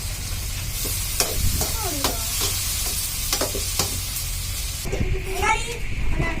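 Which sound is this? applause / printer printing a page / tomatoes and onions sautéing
tomatoes and onions sautéing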